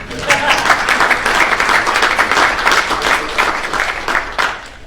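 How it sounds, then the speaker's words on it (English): Audience applause at the launch of a children's physical literacy centre, dense and steady clapping with some individual claps standing out, fairly loud and sustained, with faint voices mixed in. "Round of applause for my two children."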